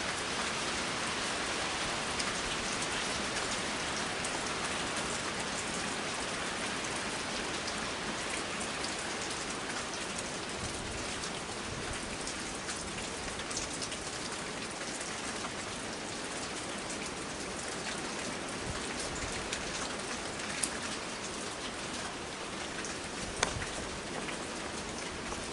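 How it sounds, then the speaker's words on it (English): Heavy rainstorm with high winds, a steady, dense hiss of rain pouring down close by for the whole stretch, with a few faint distant sharper ticks and no voices. "the rain's coming down good"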